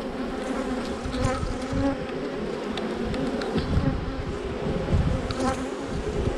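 A swarm of bees buzzes densely and continuously around a beekeeper collecting them in garrigue scrubland, close and steady, with individual insects whining past, no voices.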